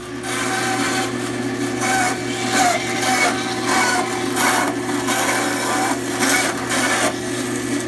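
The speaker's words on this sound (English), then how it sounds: "I'm going to use a meat bandsaw" Meat bandsaw cutting through a pig carcass while quartering it, a steady continuous grinding rasp with a constant motor hum underneath, close and fairly loud throughout.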